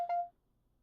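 A single short electronic beep sounds in the puzzle adventure game Obduction, a clean bright tone lasting a fraction of a second and then cutting off into near silence.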